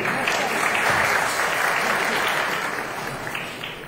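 Close, loud crowd applause at a Huawei Nova 9 SE phone launch, dense and steady before gradually tapering off toward the end.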